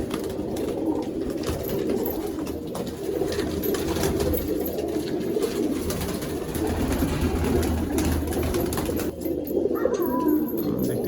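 Pigeons in a loft's male section, a flock of many coloured birds, coo steadily in a dense, continuous low murmur with occasional wing flutters, close and fairly loud throughout.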